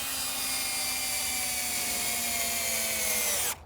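A power drill driving a screw into pallet wood while building a chair, a steady high motor whine close by that slowly drops in pitch under load, then cuts off sharply.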